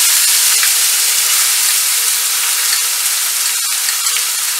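Onions hiss and sizzle in hot oil with bay leaf and cinnamon, a loud, steady, close frying noise that holds throughout with no voices.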